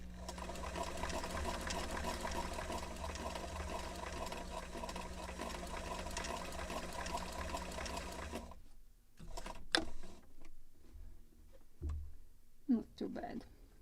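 A sewing machine runs steadily for about eight seconds, stitching sails for a model of the 1776 gunboat Philadelphia, then stops; a few quiet clicks and handling sounds follow.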